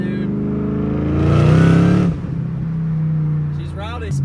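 A Chevrolet Corvette C6 ZR1 engine revs up loud and close, rising in pitch and then dropping back to a steady rumbling idle, with brief talk near the end.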